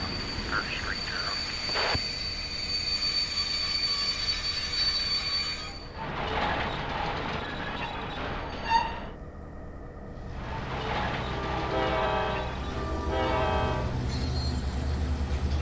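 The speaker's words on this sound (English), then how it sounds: "Train 502T makes a delivery to the freight house" A model freight train on a layout rolls along the tracks with squealing wheels and rumbling cars, steady and close, with a brief sharp clank partway through.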